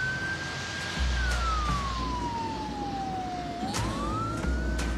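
A police car siren wails in a long, slow sweep, falling and then rising in pitch, fairly loud over a low rumbling engine background.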